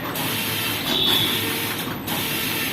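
Close mechanical ratcheting and metallic clicks from a wrench tightening a bolt during installation of a new machine, a steady clatter lasting a few seconds with a brief louder stretch in the middle and no talking.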